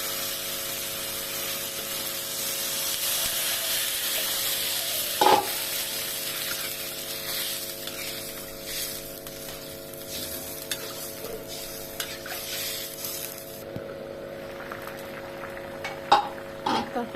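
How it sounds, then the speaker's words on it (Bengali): Broth poured into a sizzling egg and potato curry in a pan while it is stirred; a steady frying hiss carries throughout, with a few spoon knocks and scrapes, and no talk. "ঝোল দিয়ে দিব।"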